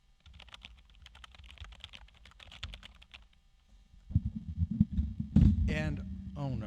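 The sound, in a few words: typing on unbranded K853 wireless gaming keyboard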